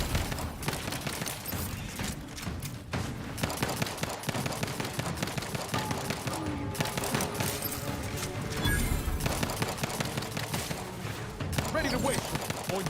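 Rapid automatic gunfire in a video game as a full magazine is emptied, bursts of shots crackling in quick succession through most of the stretch, with a voice talking over parts of it.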